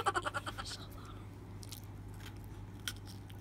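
Someone chews a snack up close, with a quick run of crunchy bites at the start fading into softer chewing and a few faint later crunches.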